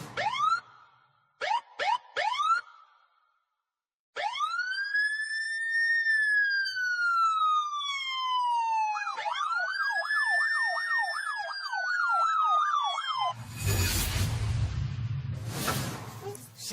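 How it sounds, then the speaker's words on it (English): A pair of sirens from Singapore: short rising chirps, then long wailing sweeps that fall and turn into a rapid warbling yelp, loud and continuous, ending in a burst of broadband noise. "check out this pair of mysterious sirens from Singapore"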